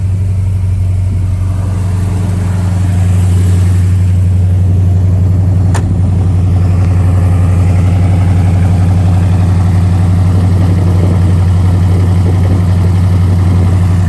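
A 1970 Chevrolet Malibu's engine idles close by, a loud, steady low rumble with a constant throb and one brief sharp click midway, no voices present.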